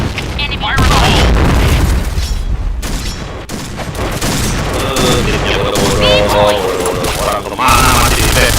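Loud booming blasts and rattling gunfire in a Counter-Strike style shooter game during a match, dense and chaotic, with voices calling out over the din.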